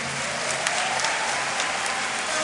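A large crowd at a Catholic charismatic renewal gathering applauds during a sermon, a dense, loud, continuous wash of clapping with no gaps and no clear voices.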